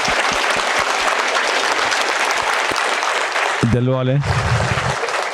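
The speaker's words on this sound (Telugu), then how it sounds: "ఒకసారి మన గురువు గారి గట్టిగా చప్పట్లతో" An audience applauds a guru at a spiritual youth gathering, dense sustained clapping that fills the room, then a short spoken phrase breaks in near the end as the clapping carries on underneath.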